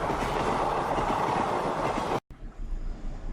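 Train running on rails an hour out of Bombay, a steady loud rumble of wheels and carriage noise throughout, briefly cut to near silence before the rolling clatter resumes more quietly.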